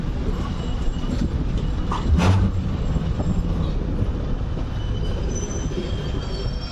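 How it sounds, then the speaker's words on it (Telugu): The 12604 Chennai SF Express pulls slowly out of Charlapalli with a loud, steady rumble of wheels and carriages. A brief screech of wheels cuts in partway through, and the sound is heard close from on board. "మన ట్రైన్ ఇప్పుడే స్లోగా మూవ్ అవుతుంది"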